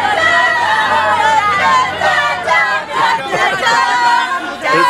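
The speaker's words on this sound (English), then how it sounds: "Oh my gosh, I hear crowds chanting." A Disneyland crowd chants the Indiana Jones theme together, a dense, continuous wall of voices with rising and falling melodic lines that stays loud and close throughout.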